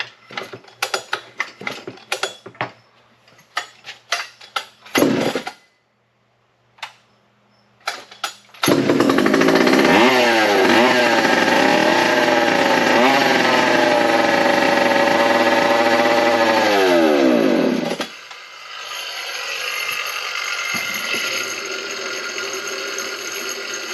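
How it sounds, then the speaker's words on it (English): A Partner P55 chainsaw with a broken ignition switch cranks with several ratcheting pulls, then fires and runs loud and steady, its revs sweeping up and down before cutting off and settling into a lower idle. "this ignition switch is broken, so we'll just use the choke to shut off the saw, but we'll see if it fires up"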